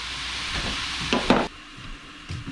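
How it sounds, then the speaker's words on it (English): A pot of turkey and andouille sausage gumbo simmers and sizzles softly, with bursts of stirring and a brief louder clatter near the middle, no talking. "while everything's simmering down there"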